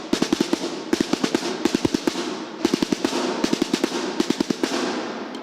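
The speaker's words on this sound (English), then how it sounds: "the reveille would be played to wake all the soldiers up" A military reveille drum routine on a single drum, with loud, sharp strokes in rapid repeating rhythmic bursts and brief gaps between phrases, played alone and close.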